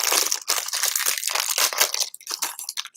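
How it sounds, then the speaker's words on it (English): A plastic bag from a Lego BrickHeadz Goldfish set crinkles and crackles close up, a continuous bright rustle for about three seconds with brief gaps near the end. "Plastic bag goes by."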